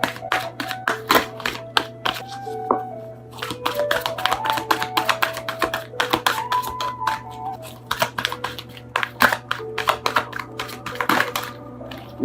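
A tarot card deck being shuffled by hand gives rapid, irregular clicks and riffling snaps, close and fairly loud, over soft melodic background music and a steady low hum.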